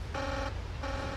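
A control room alarm at the Chernobyl reactor sounds in two long buzzing tones, each about a third of a second, separated by a short gap, over a low steady machinery hum.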